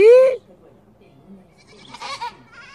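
A small young goat gives one loud, close, rising bleat at the start, then falls quiet; faint speech follows toward the end.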